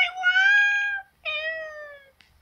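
A cat meows twice in a row, close and clear, the first call longer and rising, the second slightly shorter, with a tiny sound at the end.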